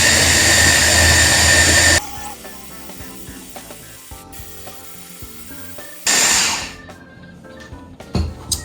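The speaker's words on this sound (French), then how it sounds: "n'hésitez pas à mixer longtemps pour que ce soit bien homogène" An electric mixer blends banana peel cake batter, whirring loudly for about two seconds, then stopping among faint clinks before a second short burst that winds down.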